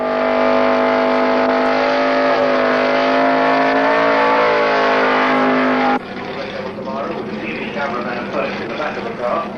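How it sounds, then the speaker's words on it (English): A drag racing car, the Red Devil, does a burnout at Snetterton in 1978, its engine holding a loud, steady high-pitched roar before breaking into a rougher, gravelly blast of noise, with no talking. "the Red Devil demonstrates a burnout"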